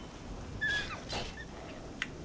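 A dog in The Elder Scrolls IV: Oblivion gives a few brief, faint whimpering yelps over a quiet game backdrop, with a small sharp tick near the end.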